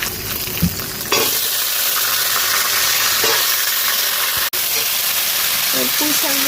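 Chunks of sweet pumpkin are tipped into spices fried red in hot oil, triggering an abrupt loud sizzle that settles into a steady close frying hiss, with a few clicks of stirring near the end.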